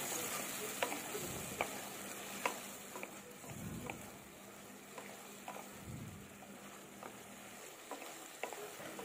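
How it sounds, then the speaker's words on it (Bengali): Pointed gourd with poppy seed, salt and turmeric being sautéed in a pan, a soft steady sizzle with regular scraping stirs and a few low thumps of the spoon, quiet and without talk. "আর 1/2 চামচ হলুদ গুঁড়ো দিয়ে এটাকে ভালো করে আমি কষিয়ে নেব"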